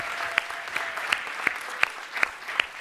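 An audience at the MIT Solve closing plenary claps steadily, a dense wash of applause from a seated crowd with a few sharp nearby claps standing out.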